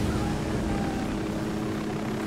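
Helicopter in the Ghost Recon Wildlands video game, a steady rotor and engine roar filling the whole short stretch at constant loudness.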